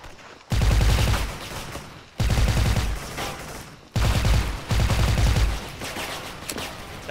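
Silenced AK rifles firing in the Special Force online shooter game, several dense bursts of rapid automatic fire, loud and close, separated by brief pauses.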